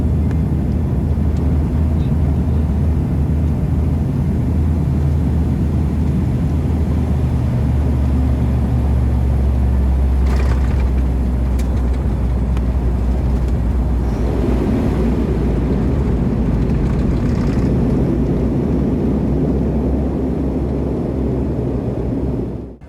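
Inside the cabin of a Lao Skyway MA600 turboprop aircraft in flight, a loud, steady low rumble of engine and airflow drones on continuously and alone for the whole stretch.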